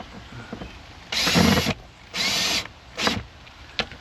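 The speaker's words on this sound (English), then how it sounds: "Once I get it started, I'll just shoot it in with my drill." A power drill whirs in three short bursts while driving in a screw, the first two longer, with quiet clicks and handling noise between them.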